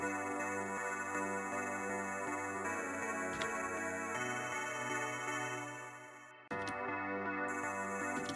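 A Dune 3 synth pad preset with bitcrusher plays a sustained, buzzy chord of stacked harmonics. It shifts timbre partway, briefly dips and drops out, then returns; no one speaks.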